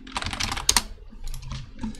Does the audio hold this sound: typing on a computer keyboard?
yes